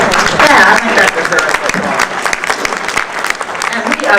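A large audience at a Maryland Women's Hall of Fame event breaks into loud, sustained applause, dense clapping that swells early and carries on steadily with small dips before continuing strongly to the end.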